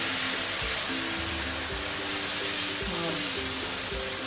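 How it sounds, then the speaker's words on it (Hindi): Onion and tomato gravy fries in a pan for a gourd kofta curry, a dense continuous sizzle with soft stirring scrapes and low thumps underneath. "अब हम ग्रेवी डालेंगे प्याज की, टमाटर की ग्रेवी डाल देंगे इसमें।"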